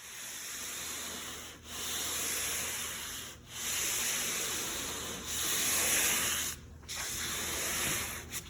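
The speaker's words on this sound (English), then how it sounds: "we're gonna flip and start sanding the other side" Rhythmic hand sanding on a 1974 Triumph TR6 car door, long abrasive rasping strokes repeating with short pauses between them, close and steady.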